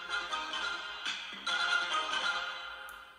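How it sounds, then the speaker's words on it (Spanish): A Dragon Ball theme sound plays as a phone notification tone: a bright, melodic electronic jingle, loud and close, running steadily for about three seconds with a short break partway through and no talking. "el típico sonido de Dragon Ball"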